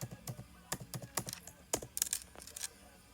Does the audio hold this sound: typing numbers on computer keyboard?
yes